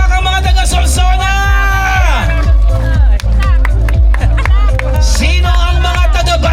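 Guests at a first-birthday and dedication celebration clap, yell and whoop together in a loud, continuous crowd roar lasting several seconds, with an amplified voice over it.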